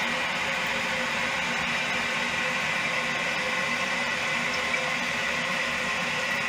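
Steady rushing hiss of water running into a toilet tank, a continuous even flow with no voices.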